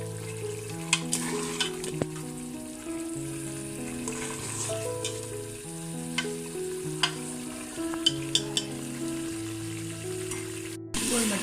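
Potatoes and peas fry and get stirred with masala in a pan, a steady sizzle running under soft background music, with a few sharp scrapes of the spoon against the pan.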